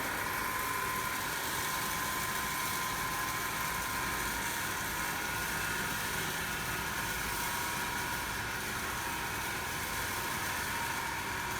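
A DC motor runs steadily on a lab bench during field-current speed control, near its 1500 rpm rating, giving a continuous even hum with a high whine throughout, fairly quiet and alone.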